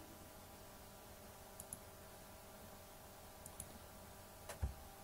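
Computer mouse clicks come while Google Earth is being used: a few faint, crisp single and double clicks spaced across a few seconds over a quiet hum, ending with a slightly louder knock.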